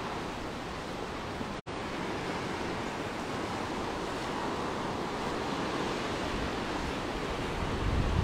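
Steady wind and breaking surf on the beach at Side, Turkey, a continuous broad wash of waves with gusty wind rumble at the microphone, briefly cut out once near the start.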